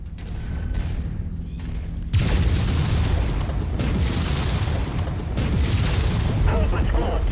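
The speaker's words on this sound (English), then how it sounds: "He is about to explode." An enemy mech blows up in a BattleTech-style mech combat video game, a sudden heavy boom followed by sustained rumbling blasts and debris crackle, loud and close, with a voice talking over it.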